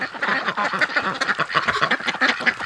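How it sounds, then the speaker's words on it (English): Muscovy and Rouen breeding ducks quack in a pen, a loud, close run of rapid, overlapping calls with no pause. "Oh my goodness, she's so cute, little duck."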